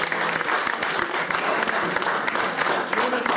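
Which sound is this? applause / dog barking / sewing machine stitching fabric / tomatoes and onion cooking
applause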